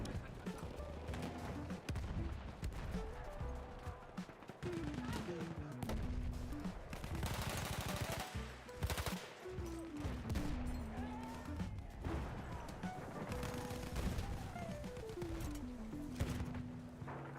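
Bursts of submachine gun fire in the game Battlefield 1, rapid rattling volleys repeating throughout amid other battlefield gunfire and explosions, with voices talking faintly underneath.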